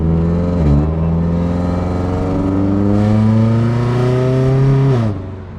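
Turbocharged Scion FR-S engine revving loudly and close, its pitch climbing steadily through a long pull before dropping off sharply near the end, with no talk over it.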